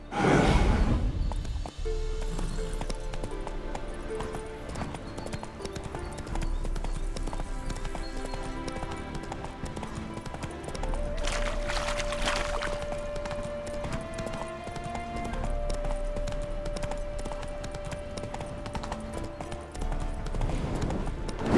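Steady rhythmic clip-clop of horse hooves ridden at a walk in The Witcher 3 video game, continuous and fairly close, mixed under soft game music with a sustained tone midway.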